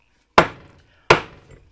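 Two sharp, loud hammer blows seating a sledge hammer head onto its new handle, about three-quarters of a second apart, each a hard crack with a short ringing decay.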